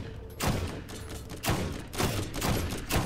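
Enemy gunfire in the Borderlands video game: loud, repeated bursts of shots in a steady rhythm, roughly every half second to second, close and dominant with no talking over them.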